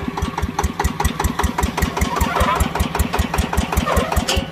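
A new Yanmar 160 tractor's diesel engine chugs with a fast, even mechanical beat, running steadily and close by with no one speaking.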